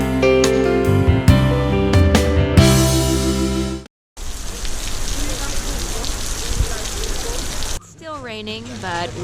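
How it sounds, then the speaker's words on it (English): Steady rain falls on terraced rice fields, a dense even patter that follows a burst of music and gives way to a voice near the end. "Still raining"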